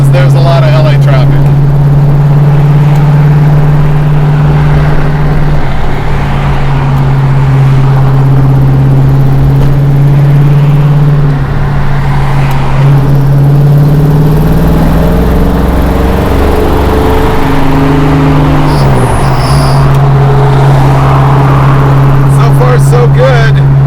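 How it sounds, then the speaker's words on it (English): A 1972 Plymouth Road Runner cruising on a highway, its engine holding a loud, steady drone with slight pitch shifts, while a person talks over it. "This is it, my first time on the highway with the Roadrunner"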